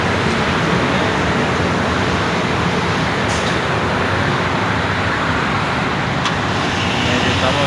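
Heavy traffic on a busy main provincial road, a dense, loud, continuous roar of passing vehicles with a couple of brief high-pitched squeaks.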